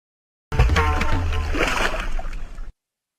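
Water splashes and spatters over a Masoba deity idol in a short, continuous gush lasting around two seconds, close by.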